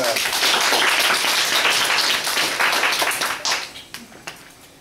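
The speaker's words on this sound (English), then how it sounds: "Let's give a round of applause to Monika" Audience applause for a presenter, a dense wash of many hands clapping near and loud, thinning out into a few scattered final claps.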